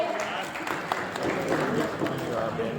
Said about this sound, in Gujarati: આ શુભ ક્ષણને જોરદાર તાળીઓ વડે વધાવી લેશું